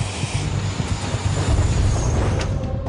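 A high-speed train rumbles past at close range in a steady loud roar of wheels on rail, with a faint high whine riding over the dense low rumble.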